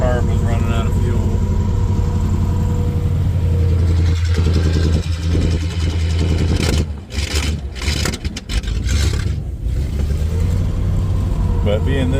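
A 1952 Ford F4 truck engine, cold and without a working choke, runs loud and close with a steady low drone and sputtering dips partway through as the carburetor starves for fuel.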